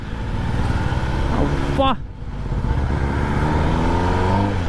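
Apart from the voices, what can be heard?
Kawasaki ZX-10R superbike revving with new exhaust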